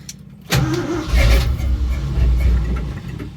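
A 1968 Ford F100 with a 360 V8, just after a carburetor rebuild, cranks loudly and close up, then catches into a rough, rumbling run that holds steady without talk.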